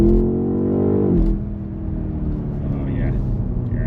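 A BMW M5 Touring engine revs hard for about a second, then drops to a steady driving hum.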